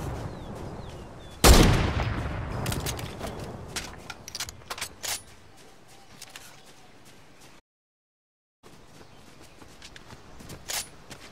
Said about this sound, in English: Miss me with that freaking pulse rifle